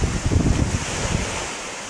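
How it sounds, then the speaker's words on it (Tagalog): Large ocean waves crash and roar under strong typhoon wind at the shore, a loud, dense, continuous surge with heavy wind buffeting the microphone and no voices. "Pero malalaki rin ang alon dito, oh."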